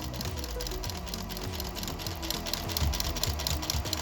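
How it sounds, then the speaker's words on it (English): A sewing machine runs steadily, stitching all the way around the edge of a fabric scrunchie, its rapid mechanical whir continuous and fairly quiet, close by with no talking. "now we're going to sew all the way around"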